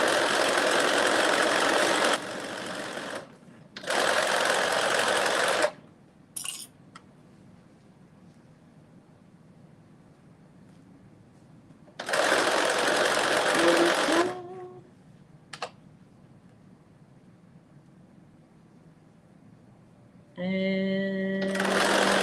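Home sewing machine stitching a Simplicity 9825 sewing pattern in bursts of a few seconds each, with quiet pauses between runs and a short low hum near the end.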